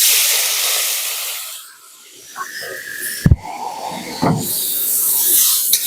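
Eggplant pieces go into hot oil seasoned with a pinch of asafoetida, setting off a loud hissing sizzle that briefly dips, then a sharp clatter and renewed strong sizzling.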